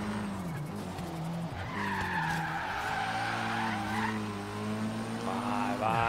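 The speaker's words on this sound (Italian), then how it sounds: "Vai, vai di derrapata, vai di traverso." A Mercedes 190E drifts through a corner in Forza Horizon 3, its tires squealing in long wavering skids over a steady engine drone, loud and close, with a final rising squeal near the end.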